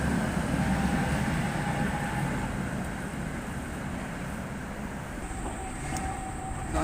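A Prague tram rolls around a corner, a steady low rumble of wheels and motor that eases slightly midway, with a faint squeal appearing near the end.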